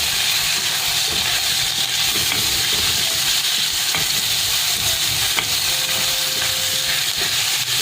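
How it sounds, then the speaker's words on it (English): Chorizo sautéing in butter in a pan for a carrot, beetroot, tomato and leek soup, a loud steady sizzle and hiss lasting throughout with occasional faint stirring scrapes. "We'll add the chorizo. Just saute it a little for flavor."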